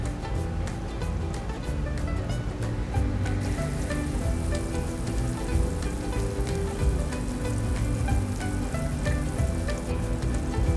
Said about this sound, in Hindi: इसके बाद हम ग्रिल पैन में इसको फ्राई करेंगे